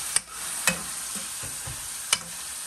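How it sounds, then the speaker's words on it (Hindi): Spoon stirring and mixing mutxon or meat in a hot frying pan, with a steady low sizzle throughout and a few sharp scraping clacks of the utensil against the pan, close and alone without talk. "अब हम इसको अच्छे से करते हैं मिक्स।"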